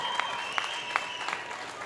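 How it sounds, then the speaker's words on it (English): An audience at a post-event MMA press conference gives a brief, steady round of applause that sits as a dense wash of clapping, moderately loud and fairly distant. "Let's give him a round of applause"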